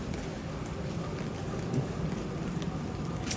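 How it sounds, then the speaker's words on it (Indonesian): Steady light rain falls continuously, a soft even patter with no voices. "Betul-betul yang hujannya itu nggak deras tapi awet banget."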